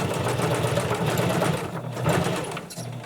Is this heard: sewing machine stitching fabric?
yes